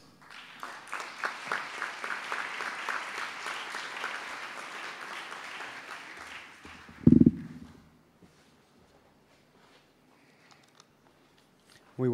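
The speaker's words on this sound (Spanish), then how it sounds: "Recibamos, por favor, con un fuerte aplauso al señor Gustavo Rodríguez." An audience applauds for about seven seconds to welcome a man onto the stage at an award ceremony for a reading and photography contest, followed by a sharp thump and then near silence.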